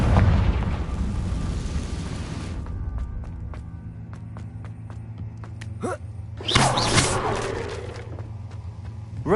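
Confringo fire spell in the video game Hogwarts Legacy, a loud rumbling blast that fades into crackling debris, then a second burst of roaring fire and impact a few seconds later.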